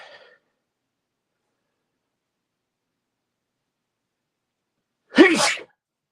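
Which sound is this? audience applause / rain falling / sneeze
sneeze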